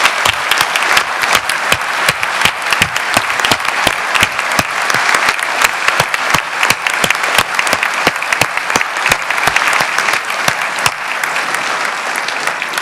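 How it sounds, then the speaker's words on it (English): Loud, sustained applause from an indoor town meeting audience, dense steady clapping that keeps going for several seconds before thinning slightly. "Let's give Mr. Favorito a round of applause."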